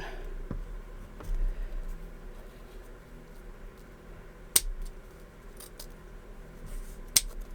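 Scissors trim a piece of ribbon for a handmade DIY ticket book, giving a few sparse, sharp snips in a quiet room with a low background hum.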